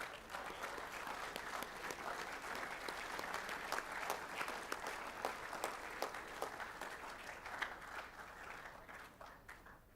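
At a school assembly, a large audience applauds the boys being congratulated, a steady roll of many hands clapping for about ten seconds and thinning slightly near the end.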